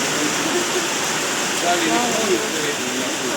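Dense, steady roar of heavy rain or rushing water, loud and constant, with faint voices barely audible beneath it.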